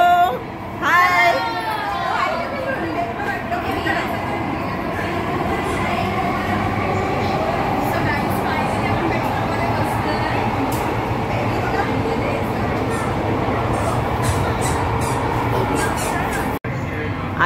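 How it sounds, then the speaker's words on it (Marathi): An underground metro train in Mumbai runs steadily along the track, with a loud continuous rumble, a squeal of wheels at the start and occasional clatter, while people talk inside the carriage. "ट्रेन चालू झाले."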